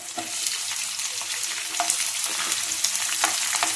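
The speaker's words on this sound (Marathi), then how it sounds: "आता या कांद्याला चांगला गुलाबी रंग व्यवस्थित परतून द्यायचा." Chopped onions sauté in hot oil for karela bhaji, a close steady sizzle broken by sharp scraping clicks of stirring at irregular intervals, with no voices.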